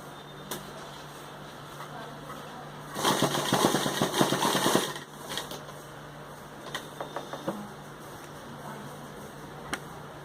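A sewing machine stitches a neck patch on a designer suit in a short, dense burst of rapid clattering, followed by a few scattered clicks and taps.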